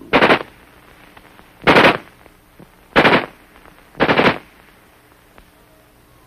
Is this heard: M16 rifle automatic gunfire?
yes